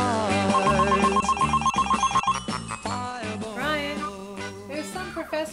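A telephone bell rings in a rapid, trilling burst, heard over sustained music that continues after the ringing stops; no one speaks.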